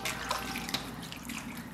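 Running water splashes steadily as a blanched pork head is washed clean of scum, a continuous close tap-and-sink wash with faint handling knocks and no talk.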